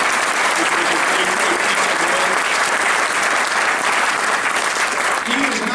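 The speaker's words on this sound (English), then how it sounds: "let's give him a round of applause for that" A large audience applauds steadily and loudly at a state senator's oath-of-office ceremony in a high school auditorium, with dense continuous clapping and faint voices mixed in throughout.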